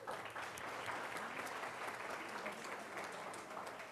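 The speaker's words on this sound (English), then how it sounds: "So first of all, give yourselves a round of applause." An audience at a real estate event breaks into sustained applause, a dense wash of many hands clapping steadily at moderate distance, fairly quiet overall, with no speech.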